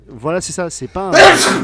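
Speech is interrupted by a sudden loud sneeze near the end, a burst of breathy noise that cuts in right after a short exchange of voices.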